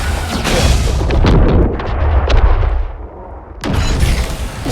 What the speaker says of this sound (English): Explosions are so good